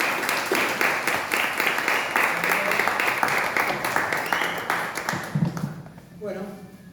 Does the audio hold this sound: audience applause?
yes